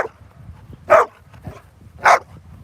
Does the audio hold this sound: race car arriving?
no